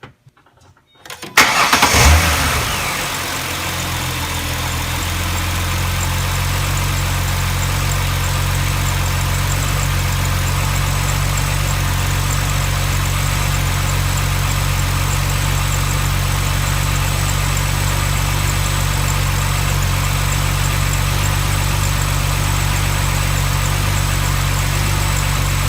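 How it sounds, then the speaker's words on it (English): A car engine cranks and catches about a second in, then settles into a steady, close idle that runs on alone for over twenty seconds; it is being run for a 12V car and truck battery load and charging system test. "So let me get the car started and then I'll hit the enter button and get that going."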